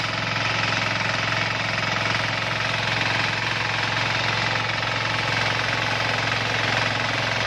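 A Sakura 188 diesel tiller runs steadily while forming soil beds, its loud, constant engine drone and rhythmic knocking chug holding close and unbroken throughout.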